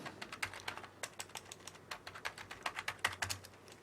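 A computer keyboard typed on up close, quick uneven keystrokes clacking in bursts with brief pauses, one key prone to sticking, no voices over the clatter.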